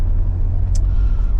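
An INEOS Grenadier accelerates toward the national speed limit on a road, its engine a steady low rumble with road noise from inside the cabin and no talking.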